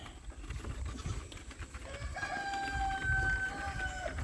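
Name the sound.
little chickens clucking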